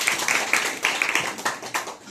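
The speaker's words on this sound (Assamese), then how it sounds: "গতিকে তেওঁৰ কাৰণে এটা জোৰে হাত চাপৰি হ'ব লাগে" An audience claps at an event honouring a cancer survivor and social worker, giving a short burst of brisk, overlapping hand claps that lasts about two seconds.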